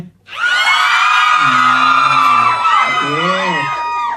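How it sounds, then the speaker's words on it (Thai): A crowd of fans at a cinema screening screams loudly: sustained high-pitched shrieks that swell and waver together for several seconds. "ขอเสียงกรี๊ดหน่อยได้ไหม"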